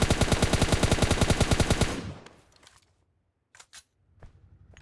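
Sustained automatic gunfire spray in PUBG Mobile Lite, a rapid even burst of about two seconds that stops abruptly, followed by a few scattered faint clicks and game sounds.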